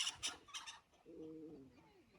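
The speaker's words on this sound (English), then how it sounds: "Oh, chickens are fighting." Chickens squabble in a fight: a quick run of harsh, bright squawks, then a drawn-out wavering cry, all fairly close and fading.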